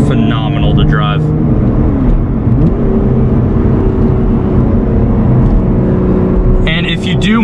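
A 2021 Lotus Evora GT accelerates, heard from the driver's seat: a loud, steady engine drone with revs climbing and dipping through gear changes, with a voice briefly at the start and end.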